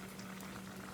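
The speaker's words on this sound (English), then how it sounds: "My rice is boiling really, really good." Brown rice boils in a pot with a steady, faint bubbling and a low hum underneath, no voices.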